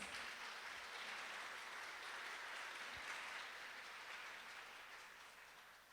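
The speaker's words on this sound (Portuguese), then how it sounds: "Vamos aplaudir o Senhor pela vida delas?" A church congregation applauds in steady, dense clapping that fills the room for the full stretch, holding loud and even before easing slightly toward the end, with no voices over it.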